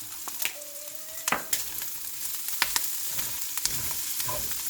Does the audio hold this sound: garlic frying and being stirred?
yes